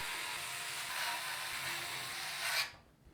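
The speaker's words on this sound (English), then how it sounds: "we'll secure our IO into place at the top using the included short radiator screws" Short radiator screws driven into a PC case IO bracket while installing a Phanteks Glacier One 360 M25 Gen2 cooler, a continuous close mechanical ratcheting whir that ends abruptly.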